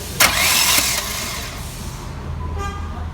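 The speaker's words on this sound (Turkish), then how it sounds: "Ümit marşa bas bırak." Renault Megane 1 engine cranked by the starter and catching, a sharp burst of noise then a steady idle hum from close by.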